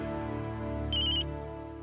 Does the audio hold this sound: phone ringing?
yes